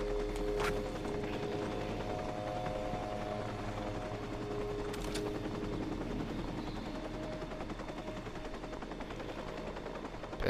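Helicopter rotor and engine noise in the video game Watch Dogs, a steady droning hum that fills the scene, with gunfire-like cracks and other game effects mixed in.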